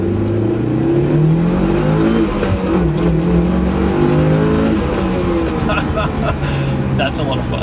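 A manual Mitsubishi Evo 8 engine revs and accelerates through the gears, its loud rising drone dipping between shifts and climbing again, heard from inside the car while people talk over it.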